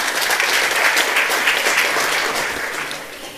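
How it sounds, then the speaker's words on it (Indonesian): A congregation applauds at a church worship service, a dense, loud wash of many hands clapping together that tapers off slightly toward the end. "Beri tepuk tangan."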